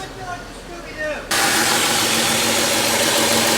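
A Chrysler Pacifica engine with a cylinder 3 misfire idles, starting with a quieter rumble, then jumping abruptly to a loud, steady, close running noise, with no talk.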